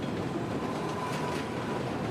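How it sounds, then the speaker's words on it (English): A subway train crossing a flexible steel bridge gives a dense, continuous rumble and rolling roar that stays steady and fairly loud for the whole moment, with no voices. "That drawback emerged when the first subway train crossed."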